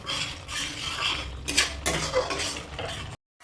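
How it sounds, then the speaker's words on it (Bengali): A spoon scrapes and stirs spice paste with chopped tomatoes in a pan for a fish curry. Close metallic scraping and clinking comes in uneven strokes over a soft sizzle, then cuts to silence. "খুব ভালো করে নাড়িয়ে চাড়িয়ে কষিয়ে নেব মশলাটাকে।"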